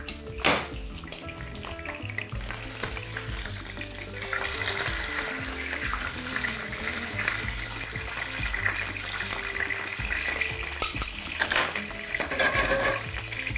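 Beef sizzles in a hot pan on high heat, a steady crackling fry with clinks and scrapes as the meat is turned, close by.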